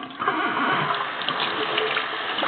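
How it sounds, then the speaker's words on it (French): Cold tap water running steadily over sprouted seeds being rinsed, a close, continuous splashing gush with no pauses. "bien les rincer à l'eau froide, hein, tout ça, bien rincer"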